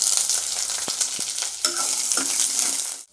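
Sliced onion sizzles steadily in hot oil with garlic in a pan, producing a continuous bright crackle that carries a few soft stirring clicks before it cuts off.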